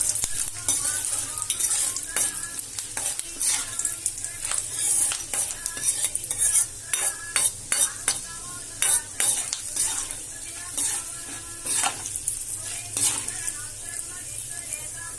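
Chana dal, urad dal and peanuts sizzle steadily in hot oil while a spoon stirs them, with frequent scrapes and metallic clinks against the pan throughout.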